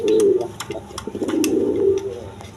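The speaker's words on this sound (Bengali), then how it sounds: "এখানে এক পেয়ার লক্ষ্য কবুতর আছে একদম রানিং পেয়ার" A running pair of Lakkha pigeons coos up close, a low throaty rolling call swelling twice in a row, with faint clicks and bird noises around it.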